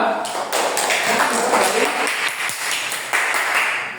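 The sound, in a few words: class applauding group 2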